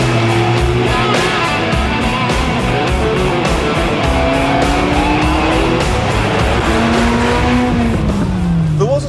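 A Ford Escort Cosworth rally-style car roars loudly and continuously, engine revving hard with tyre squeal and skidding across the whole stretch, close and sustained with no pauses.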